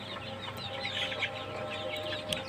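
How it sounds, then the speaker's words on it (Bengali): Sonali chicken chicks clucking and peeping continuously, a busy flock of small birds heard close by with a steady chatter throughout. "এগুলো সোনালী মুরগির বাচ্চা।"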